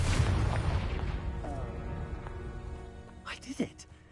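A Confringo spell detonates in Hogwarts Legacy, a heavy booming blast that decays over several seconds, followed by a couple of brief sharp crackles near the end.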